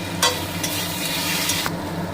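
Poppy seed paste sizzles loudly and continuously in a hot pan, with brief scraping stirs of a spatula breaking through the frying hiss.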